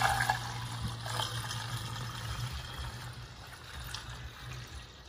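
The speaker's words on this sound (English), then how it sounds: "Now we're gonna fill this up with the coolant water mixture." Coolant and water mixture is poured through a funnel into the radiator of a BMW 135i E82 with an N54 engine, a soft continuous trickle and gurgle heard close up and fairly quiet.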